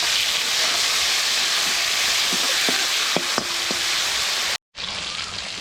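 Tomatoes go into hot oil with onions already fried until lightly browned, setting off a loud, steady sizzle. A few faint clinks sound partway through before a brief cut, and no one speaks.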